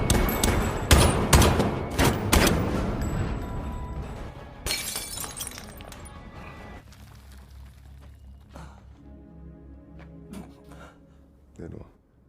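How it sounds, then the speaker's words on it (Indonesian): Film shootout scene with a dense burst of loud gunshots and shattering glass at the start, thinning out into scattered thumps and a final sharp crack over a quieter tail. "Dan akhirnya baku tembak pun terjadi."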